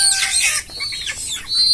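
Young desi chicks, about 45 days old, chirp and cheep loudly up close while being set on a weighing scale, in short overlapping high calls.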